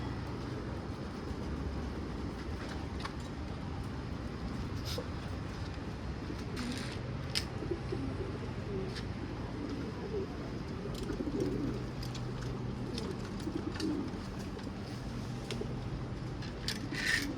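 Young Posta breed pigeons cooing in a garden, a soft continuous murmur of coos under steady outdoor background noise, with occasional brief sharper sounds.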